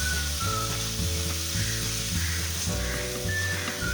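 Shredded coconut is stirred into condensed milk for sweet coconut balls, giving a steady wet, sticky scraping and squelching with repeated stirring strokes, close and fairly loud, with no talking.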